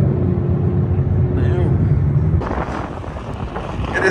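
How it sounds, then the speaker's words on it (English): Steady, heavy wind buffets the microphone in a low rumble throughout at a quarter-mile drag strip, with traffic faintly audible beneath it. "It is a windy day"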